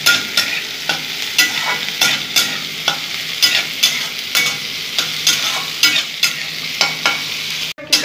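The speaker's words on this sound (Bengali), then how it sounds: "একটু ভেজে নেব।" A large onion frying in a pan for spicy dim aloo bhurji, a steady sizzle broken by regular spatula stirring scrapes, close and fairly loud with no voices.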